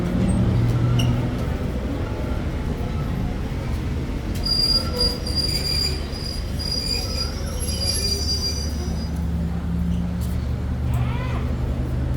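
Rapid train 171 pulling into Ban Pong station in Thailand, its wheels squealing in high, wavering tones over a steady low rumble of railcars, loud and close, with faint voices in the background.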